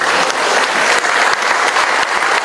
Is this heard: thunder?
no